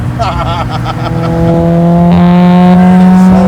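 A classic Mini fitted with a Honda Type R engine revs hard from inside the cabin, the pitch climbing steadily and then holding a loud, high whine as it passes VTEC; people talk over the start.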